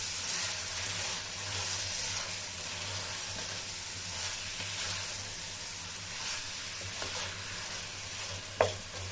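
Tomatoes and hot green chillies being stirred into a bottle gourd curry in a pan, giving a steady soft sizzle with repeated light spoon scrapes, a low hum underneath and a sharp knock near the end.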